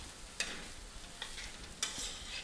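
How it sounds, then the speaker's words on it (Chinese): Lotus leaf rice with XO sauce, oyster sauce and soy sauce being stir-fried in a wok, with soft steady sizzling and a few sharp scraping tosses of the spatula. "然后再继续的翻炒"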